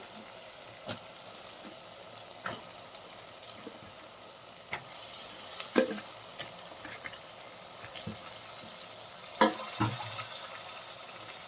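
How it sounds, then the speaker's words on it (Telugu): Okra stirred into a tomato masala with oil in a pan gives a faint, low sizzle, broken by scattered soft clicks and scrapes of stirring, with no voices. "ఇప్పుడు బెండకాయలు వేసుకుందాం"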